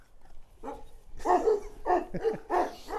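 A Kangal dog barks repeatedly at close range, five or so sharp barks in an uneven rhythm, with a faint whimpery edge.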